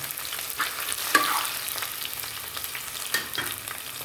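Small onions frying in a pan for a small-onion sambar, giving a steady close sizzle with light stirring scrapes and a couple of sharper clicks from the utensil.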